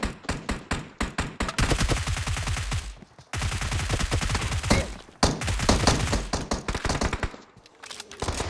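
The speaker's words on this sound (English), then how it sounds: "People are shooting." Dense gunfire in the PUBG battle royale game on the Sanhok map, with rapid automatic bursts and overlapping volleys running almost continuously and loudly, broken by a few short gaps.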